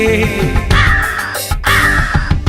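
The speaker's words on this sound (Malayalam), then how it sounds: "മഴ വരും മുമ്പേ പെട്ടകമേറുവാൻ കാക്ക വരുന്നുണ്ടേ." Loud crow caws during a musical stage skit of Noah's Ark, two drawn-out harsh calls rising over a busy musical backing, close and prominent.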